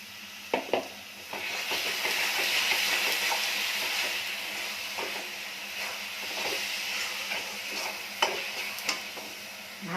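Coconut being stirred into melted date-palm jaggery in a pan, a steady scraping stir over a soft sizzle that runs throughout, with a few sharper clinks of the spoon against the pan.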